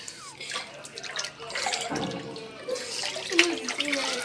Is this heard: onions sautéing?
no